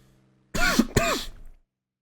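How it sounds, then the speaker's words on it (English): A man coughs and clears his throat twice in quick succession, close and fairly loud, about a second of harsh bursts between pauses of silence. "Apologies for the coughing."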